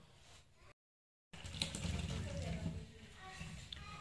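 Hot water from boiled potatoes pours through a metal kitchen strainer, a steady close rushing splash after a brief silent gap, with a voice talking faintly over it.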